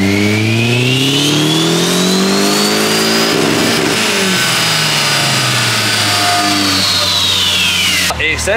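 A rear-wheel-drive, turbocharged Honda Civic engine revs hard on a dyno. A loud, close engine note climbs in pitch, holds, then winds back down before cutting off abruptly at the end.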